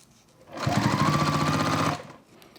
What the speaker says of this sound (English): What I'll do is just sew it on, and now I'm sewing through both layers.